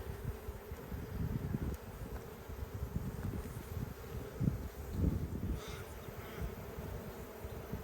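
Honey bees hum inside a narrow nucleus hive box, a low continuous buzzing close by with small swells in loudness, alone without talk.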